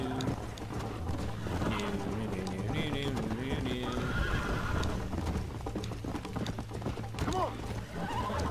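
Horses neigh loudly and hooves clip-clop at a gallop in the Red Dead Redemption video game, with dense continuous game sound and a voice talking over the action.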